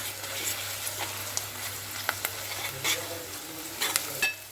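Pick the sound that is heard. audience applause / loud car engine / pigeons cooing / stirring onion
stirring onion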